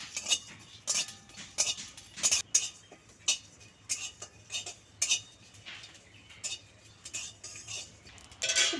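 Fennel and coriander seeds are dry roasted in a pan, with a spatula scraping and clinking against the metal in a rhythmic stir of about two strokes a second; no one speaks.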